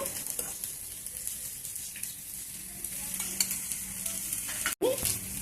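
Oil heating on a stove for a tamarind pickle chutney: a steady, close hiss and sizzle with a few faint crackles and one brief dropout near the end.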